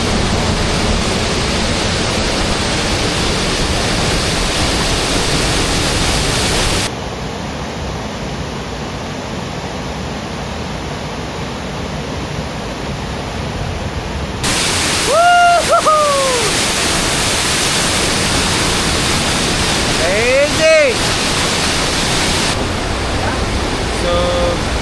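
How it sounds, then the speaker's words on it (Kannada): The Mukanmane waterfall roars as a steady, dense wash of falling water, loud and continuous throughout, with a few brief louder splashes and bumps partway through. "ಫಾಲ್ಸ್ ವ್ಯೂನ ನಿಮಗೆ ತೋರಿಸ್ತೀನಿ ನೋಡಿ"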